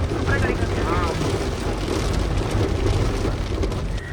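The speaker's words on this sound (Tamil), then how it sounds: "அந்த 5 நிமிஷத்தில் ரோடு சைட்லாம் எப்படி தண்ணி எவ்வளோ வேகமாக ஃபோர்ஸாக ஓடுது பாருங்களேன்." Heavy rain falls while runoff rushes fast along a roadside in the Yercaud hills, making a loud, steady broadband wash throughout with a voice faintly underneath.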